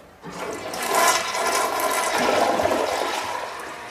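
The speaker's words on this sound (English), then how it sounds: "whether when it's flushing it actually makes little droplets and vapor that go everywhere" A toilet flushes with a sudden rush of swirling water that holds steady for several seconds, loud and close, with no voices.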